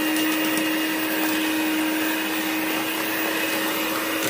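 An electric mixer beats butter with egg yolks for a cake batter, a loud steady motor whir that holds an even pitch throughout.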